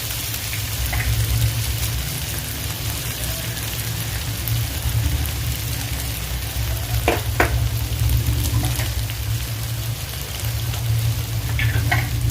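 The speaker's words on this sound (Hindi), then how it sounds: "अब इसमें हम सोया सॉस डालेंगे।" Chicken chilli gravy with freshly added soy sauce bubbles and sizzles steadily in a pan over low gas, a constant close frying hiss broken by a few brief clinks of a stirring utensil.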